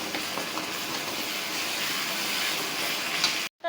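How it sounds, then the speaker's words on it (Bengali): Gourd leaves hit a hot pan of well-fried spices for a fish curry, giving a loud, steady sizzling hiss that runs for about three and a half seconds before briefly cutting out. "আমি শাক পাতাগুলো দিয়ে দিব।"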